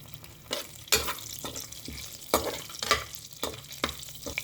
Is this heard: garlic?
yes